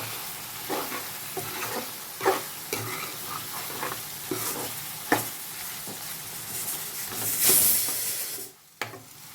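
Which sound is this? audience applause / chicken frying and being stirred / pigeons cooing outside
chicken frying and being stirred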